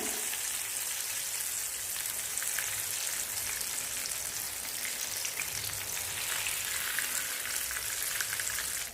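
Fish fries in a pan with a dense, continuous rain-like sizzle that stays steady and moderately quiet throughout, ending abruptly; no one talks.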